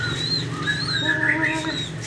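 Soft pigeon calls and whistling coos drift over a low steady hum, several pigeons nearby during hand-feeding, faint and overlapping without talk.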